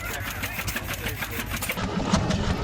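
An antique Hicks marine engine built in Yuba City, California, runs with a steady, rapid chugging beat over a noisy outdoor background.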